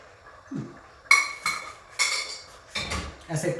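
Pots, cookware and a pressure cooker being handled in a student's kitchen, with a few sharp metallic clinks and clatters spaced a second or so apart, close and fairly loud, no talking.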